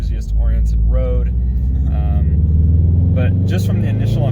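A car cruises steadily toward town with a constant low engine and road rumble, recorded from inside the cabin, while a person talks over it throughout.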